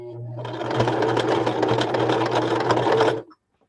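A sewing machine runs steadily for about three seconds, a close, dense mechanical whir with rapid stitching rhythm, then stops abruptly.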